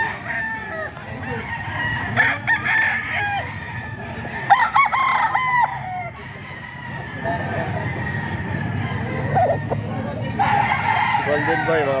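Fighting-cock roosters at a gamefowl farm crow repeatedly, loud nearby calls with others answering farther off, amid clucking and a continuous low rumble of background noise.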